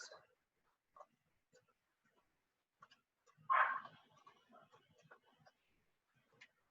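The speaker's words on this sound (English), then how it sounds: "I apologize if you hear my dog barking." A small dog barks in a short, high burst partway through, with a few quieter yips scattered around it in an otherwise quiet room.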